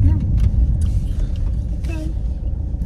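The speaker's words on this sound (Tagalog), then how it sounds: "Traffic na." Road traffic passing nearby, a continuous low rumble of cars under faint background voices.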